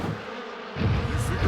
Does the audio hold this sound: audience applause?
no